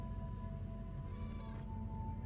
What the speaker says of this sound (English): It meows underwater.